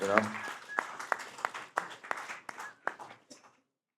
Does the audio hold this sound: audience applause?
yes